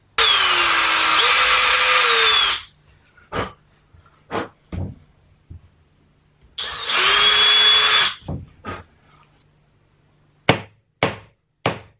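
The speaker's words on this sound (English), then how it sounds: "I'm just gonna drill 2 holes that direction." A power drill whirs loudly for two bursts, each about two seconds, separated and followed by sharp knocks and taps.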